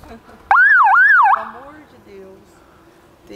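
An unusual siren-like car horn blares close and loud for under a second with a wavering, warbling pitch, then cuts off, followed by quiet voices.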